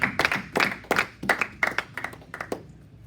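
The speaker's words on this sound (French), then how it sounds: "Nous acclamons très fort pour notre Seigneur" A church congregation claps for the Lord in a close, lively burst of hand claps, roughly three a second in a steady rhythm, loud at first and gradually thinning out toward the end.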